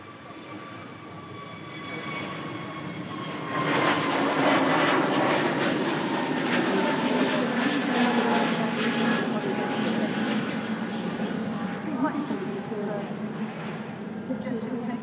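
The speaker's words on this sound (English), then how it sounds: "Jet 2, A321 Neo G-Sun G on its way to Split after taking an intersection onto 23 right, departing Manchester now." A Jet2 Airbus A321neo departs Manchester Airport from runway 23 right. Its jet engines make a broad rumbling roar that swells after a few seconds and holds steady, with a faint whine layered over it.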